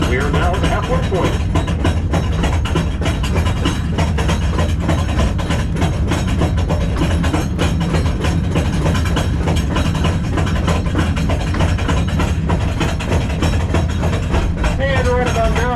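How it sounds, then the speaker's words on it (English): A counterbalanced cave train rumbles along inside Marvel Cave, a loud, steady mechanical drone with rattling and clanking throughout and occasional squeals, while people talk over it. "This train runs on a counterbalance system, so when the train goes down, it pulls the other one up."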